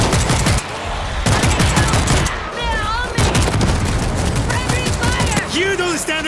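Rapid bursts of automatic gunfire and shots crack repeatedly in a zombie shooter video game set aboard a cruise ship, loud and near, with brief pauses and a few shouted voices between volleys.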